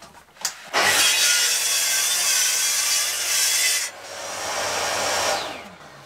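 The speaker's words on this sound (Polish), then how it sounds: "Także tutaj szybkie cięcie." A strip is cut quickly for a DIY furniture handle mounting template, one loud close sawing burst lasting several seconds after a short knock, easing then resuming before stopping.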